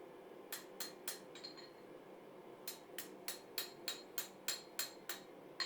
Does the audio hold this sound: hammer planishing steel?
yes